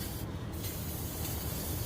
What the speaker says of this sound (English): We're going to spray it with oven cleaner.